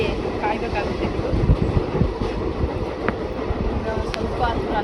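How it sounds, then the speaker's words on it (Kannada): Onboard a moving train, a dense continuous low rumble and rattle of the carriage with wind buffeting, steady throughout with faint brief clicks, and no clear talk. "ಟ್ರೈನ್ ಟ್ರಾವೆಲಿಂಗ್ ಫ್ರೀ ಟಿಕೆಟ್ ಇಲ್ಲದೇ ಟ್ರಾವೆಲ್ ಮಾಡ್ತಾಯಿದ್ದೀವಿ"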